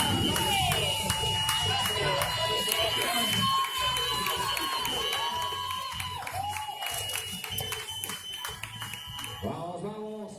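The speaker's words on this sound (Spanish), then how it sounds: "Aplausos para recibir a todos estos finisher" Crowd at the finish line of a 10K road race clapping and cheering as runners arrive, with an announcer talking over the steady outdoor noise that eases slightly toward the end.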